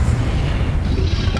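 A Confringo fire spell detonates in the video game Hogwarts Legacy, a loud, dense low boom that fills the short moment without a break.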